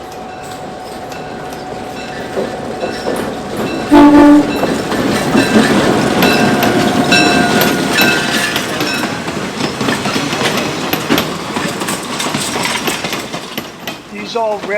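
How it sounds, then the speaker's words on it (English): A heritage train on the Niles Canyon Railway, with old Southern Pacific commuter rail cars, rumbles steadily along the track with rhythmic clickety-clack, a brief horn note, and a voice talking over the noise. "The train has left the station in Sonol and is on the way to"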